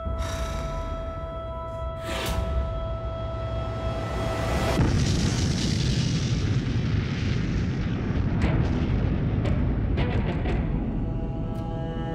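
The atomic bomb Little Boy detonating over Hiroshima in archival footage: a sustained, deep roaring rumble over steady hum, swelling after a few seconds into a broad thunderous wash with faint crackles, continuous and loud with no speech.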